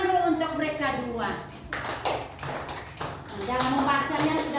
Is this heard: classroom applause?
yes